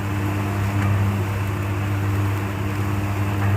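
A gas burner roars steadily on a puffed rice roasting machine, a constant close-up rush with a deep low hum running unbroken throughout and no talk.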